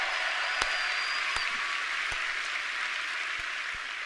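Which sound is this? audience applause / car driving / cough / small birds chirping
audience applause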